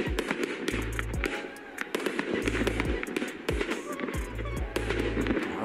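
A battery of consumer fireworks fires a rapid, loud run of crackling bursts and sharp pops, dense and irregular, with deep thumps recurring about every second and a half.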